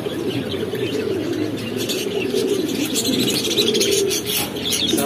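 Pigeons, including big white homers and racers, cooing continuously inside a busy pigeon shop, a dense overlapping murmur of coos with occasional chirps close by, no talking.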